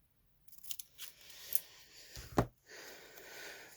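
Scissors cutting out a paper sentiment for a greeting card journal, a few quiet close snips and paper rustles at irregular intervals, one sharper crisp cut near the end, in a quiet room.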